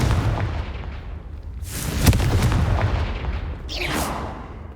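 In the Hogwarts Legacy game, a Confringo fire spell bursts with a loud boom and crackling blast, followed by a second whooshing impact a couple of seconds later, with no speech.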